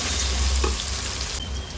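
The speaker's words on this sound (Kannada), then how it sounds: "ಚೆನ್ನಾಗಿ ಫ್ರೈ ಮಾಡ್ಕೊಳ್ಳೋಣ ಈರುಳ್ಳಿನ" Sliced onions frying in oil in a pan for capsicum rice, a dense, loud, close crackling sizzle that holds steady through the brief moment without any voice.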